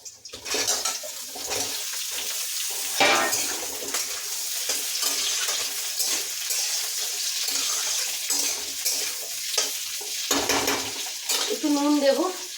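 Cut potatoes tossed into a pan of lightly reddened fried onions, sizzling and frying loudly while being stirred, with scraping and clattering throughout and no talking.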